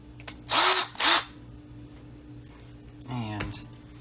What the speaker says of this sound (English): So we're going to put the tiny drill bit in.